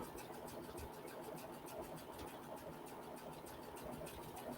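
A sewing machine with a walking foot runs in steady continuous stitching, a fast even mechanical rattle at moderate level, with no talking.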